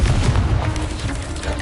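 Confringo blasting spell going off in the Hogwarts Legacy video game, a heavy booming explosion with a dense low rumble that stays loud across the short burst.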